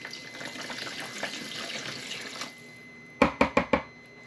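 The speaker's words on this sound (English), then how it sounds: "The first 2 cups of water, I'm going to use this water to get that blackstrap molasses off his spoon." Water poured from a tap runs steadily for a couple of seconds to rinse blackstrap molasses off a spoon, then stops and gives way to a few sharp clinks and knocks close by.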